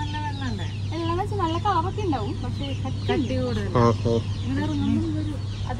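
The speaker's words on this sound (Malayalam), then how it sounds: "അപ്പൊ ഇവിടെ ബാക്കിൽ കൊറേ കോഴികളുണ്ട് കേട്ടാ, കൂടുകളിലായിട്ട്." Chickens kept in cages cluck and call repeatedly at close range, a busy overlapping chorus over a steady low hum, with a brief spoken word among them.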